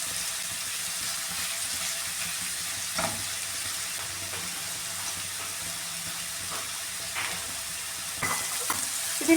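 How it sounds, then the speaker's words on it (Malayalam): Prawns dropped into hot coconut oil fry with a steady, close sizzle, a few sharper pops and spatters breaking through the continuous hiss. "ഇതിലേക്ക് ഈ ചെമ്മീൻ ഇട്ട് കൊടുക്കാമേ."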